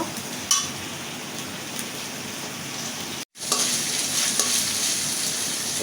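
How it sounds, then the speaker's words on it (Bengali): Dried chili paste and spices fry in a pan for a fish curry, giving a steady loud sizzle with stirring. There is a brief cut to silence midway, then the sizzling resumes. "আর শুকনো মরিচ বাটা আর মশলাটা ভালো করে কষিয়ে নেব"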